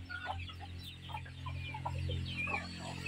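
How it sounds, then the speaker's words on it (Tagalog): Several chickens on a Filipino farm cluck in scattered short calls, fairly close, over a steady low hum, with no talk. "Marami kami manok."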